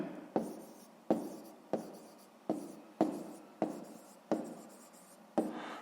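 Pen writing an answer by hand on paper in a sixth-grade math exercise: close, crisp strokes in a steady series of about nine scratchy bursts, each starting sharply and trailing off, with no talking.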